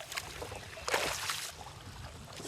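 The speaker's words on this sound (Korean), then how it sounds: "통나무로 만든 작은 배지만 뒤집어지지 않고 속도도 꽤 빠르다." A small dugout boat carved from a log glides along a shallow jungle river, giving a soft wash of water and a brief louder splash or swish of paddling partway through, with steady low background noise.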